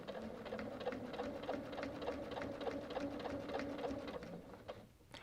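A sewing machine quilting fabric squares stitches in a fast, steady run of needle strokes, close and even, with only a brief pause near the end.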